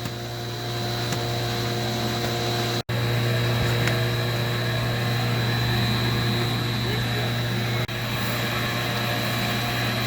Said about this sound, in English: So here's how they get the dry retardant mixed into the tanks. It's with an air induction system.